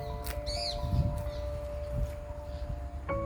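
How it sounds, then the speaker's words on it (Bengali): Birds call at a quiet open site in Anuradhapura: one short, bright chirp comes early, then a few fainter scattered notes over a steady, low ambient hum. "শুধু পাখির ডাক"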